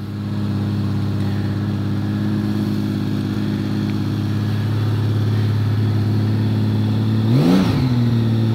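Honda Valkyrie motorcycle engine running with the choke on, a steady low, loud idle rumble throughout, then a brief sharp rev that rises and falls near the end.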